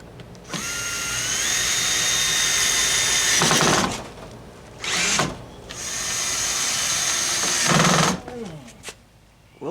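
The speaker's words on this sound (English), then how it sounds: "And then I just drill through them like this." A cordless drill whirs steadily through long runs with a pitch that shifts under load, then winds down, driving into a wooden railing on stone steps. Short pauses and quieter handling noises separate the bursts.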